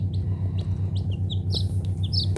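Newly hatched Wyandotte chicks peep from an incubator in a string of high, sharp chirps, close by, over the steady low rhythmic hum of the machine.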